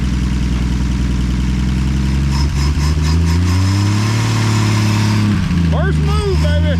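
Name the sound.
1950s car engine running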